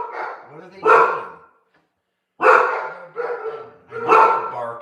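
Several dogs bark at home in the evening, a few loud bursts of barking separated by short pauses, with people talking nearby.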